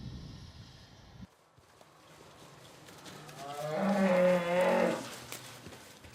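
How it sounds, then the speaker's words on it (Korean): A three-month-old calf lets out a loud, drawn-out moo inside a cowshed, rising after a quieter stretch of barn ambience and shuffling, with no talk. "송아지 한 마리를 올가미로 묶습니다"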